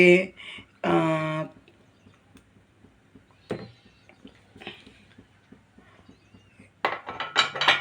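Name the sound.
idli plates being stacked while making ragi idli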